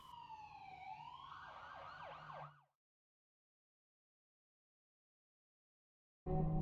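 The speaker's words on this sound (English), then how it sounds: "The credits roll and the sounds of a siren in the background." A wailing siren in a video game sweeps up and down loudly, then cuts off abruptly into silence before another loud sound bursts in at the end.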